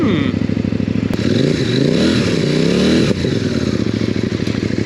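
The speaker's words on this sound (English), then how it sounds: "Let's get this bike started." A CFMoto 800 NK motorcycle engine fires up and idles with a loud, close, throbbing beat, then revs rise and fall in a couple of sweeping surges before it settles back to a steady rumble.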